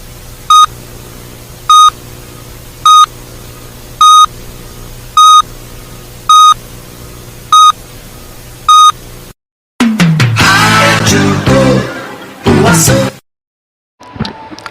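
A Brazilian radio station's eight-second time signal: eight evenly spaced short electronic beeps about a second apart, loud and clean, followed by a burst of jingle or announcer audio and a brief silence.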